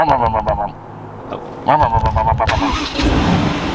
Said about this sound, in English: Let me start this car real quick, just in case.